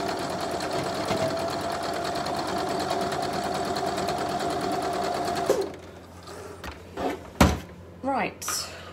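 A home sewing machine hums in one continuous close run for over five seconds while stitching a pinwheel quilt block, then stops, followed by fabric handling and a few light knocks.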